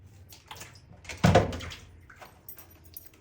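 Small frozen fish rinsed in water, a short splashing gush swelling at the middle and fading to light dribbles and drips, close and alone.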